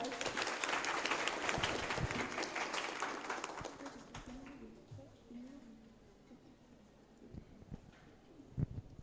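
Audience applause at a school conference in a hall, loud broadband clapping for about four seconds that then thins out and fades, with scattered claps and murmurs continuing at a lower level.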